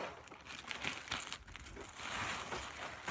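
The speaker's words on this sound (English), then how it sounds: "Sorry for the wrinkling noise." Crinkling bedding or paper rustles in bursts while a hamster cage is cleaned, close and fairly quiet, with irregular crackly surges and pauses and no talking.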